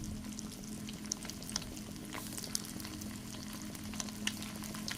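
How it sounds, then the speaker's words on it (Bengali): Fish manchurian balls fry in hot oil in a kadai, a steady crackling sizzle with occasional sharper pops and a low background hum, close and continuous without any talking. "এবার আমি কড়াইতে তেল গরম করে বলসগুলো এক এক করে দিয়ে দেব।"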